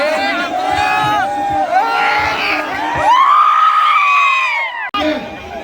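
A large, noisy crowd of fans crammed into a hero fan event in Pune, with many voices shouting, screaming and cheering loudly and close by in a continuous din, briefly cutting out near the end.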